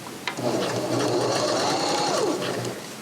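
A Viking Emerald sewing machine stitches steadily and close up, a continuous mechanical whir with a faint rising and falling motor tone that holds for the whole three seconds.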